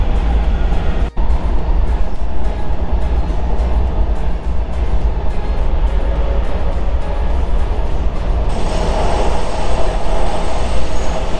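An old metro train running, heard from inside the car as a steady, loud rumble and rattle that continues for the whole stretch, with a brief dip near the start and a brighter hiss toward the end.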